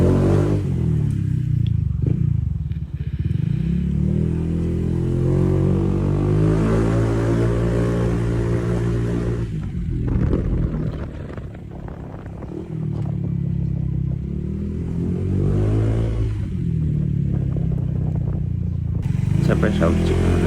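Honda ADV 160 scooter fitted with a TRC power pipe, silencer removed, revving loud and close in repeated rising bursts with a brief dip near the middle, its rough, harmonic-rich exhaust note filling the whole stretch.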